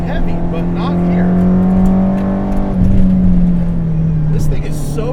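An SR20-swapped Nissan S13 240SX accelerating from inside the car, a loud steady engine drone holding a strong tone that dips slightly partway through, with people talking over it.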